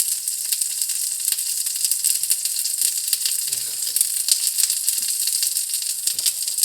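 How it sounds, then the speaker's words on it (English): Eggplant slices sear lightly in hot oil in a pan for a Filipino breakfast, giving a steady, even sizzle with faint crackles throughout and no talking. "you want to make sure that you lightly lightly sear them, and then you flip it again so it doesn't absorb more oil"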